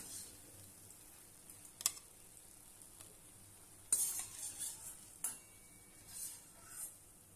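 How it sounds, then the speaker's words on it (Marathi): Banana fritters (gulgule) frying in hot oil, a soft steady sizzle with faint bubbling, broken by a few light clicks and scrapes of a utensil against the pan. "अशा पद्धतीने सर्व आपण तळून घेऊया"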